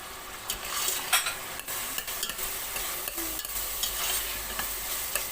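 Leeks cook in butter in a pan, giving a steady close sizzle broken by the scrape and clatter of stirring throughout.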